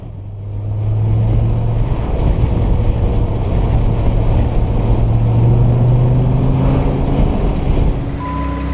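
A 2002 Dodge Viper RT10 roadster's V10 engine drones low and steady while driving, a loud, close rumble with a slowly rising pitch and wind noise, no talking over it.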